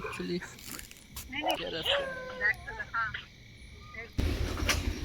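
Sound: dogs barking

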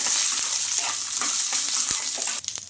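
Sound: green chillies and coconut frying in oil

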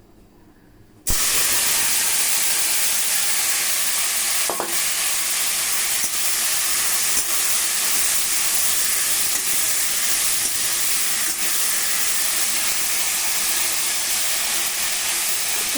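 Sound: taro stolons (kochur loti) poured into hot oil in a wok, sizzling

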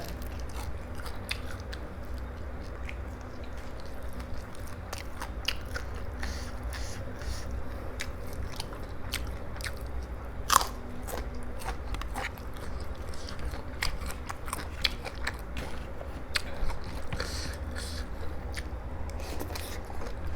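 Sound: biting and chewing crispy pork cheek

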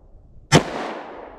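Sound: semi-auto firearm gunshot, 90 grain bullet

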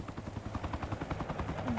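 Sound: helicopter in the video game Arma Reforger

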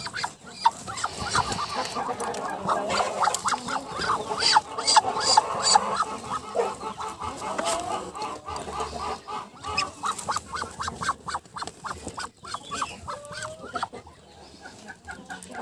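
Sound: duck on eggs being handled

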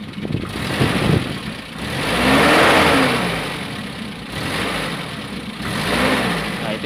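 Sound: 1981 Mitsubishi Colt T120 engine revving

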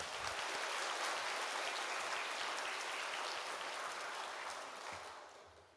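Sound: audience applause welcoming a pastor in church

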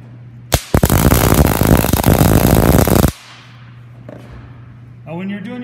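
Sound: arc welding tack welds on a steel pipe flange

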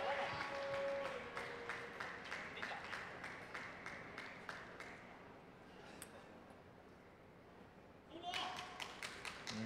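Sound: spectators clapping during table tennis match

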